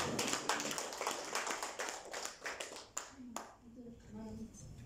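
A congregation at a Sunday worship service claps in a quick, steady rhythm for about three seconds. The clapping then stops abruptly, and a voice continues alone.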